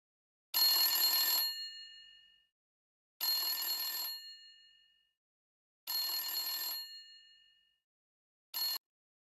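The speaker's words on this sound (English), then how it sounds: "I'm assuming it did a phone ringing noise." A telephone ringing in the Paranormalsight video game, three clear metallic bell rings in a steady rhythm with a fourth cut short, bright and alone against silence.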